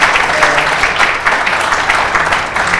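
Steady, close applause from a seminar audience fills the whole stretch, a dense wash of hand claps thanking two presenters after a question-and-answer session.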